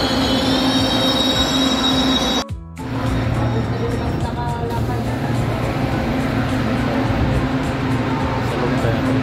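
An LRT light-rail train rolls into Cubao station with loud, sustained high-pitched wheel squeal and heavy rumble, briefly cut off, with people talking faintly beneath the noise.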